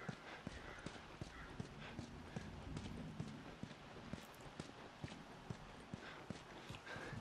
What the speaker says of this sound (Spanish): en teoría el caballo debería de pasar por acá